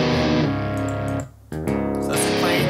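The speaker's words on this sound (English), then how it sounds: "get ourselves a little bit of a gain sound." Electric guitar on the gain channel of the Emissary amp plugin gives a short burst of thick distorted chords, loud and sustained with a brief dip midway, no talking.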